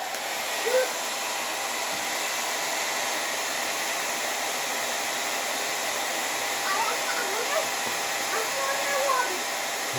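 A blower inflates a plastic film hot-air balloon, giving a steady, even airy roar from start to finish while faint voices murmur underneath.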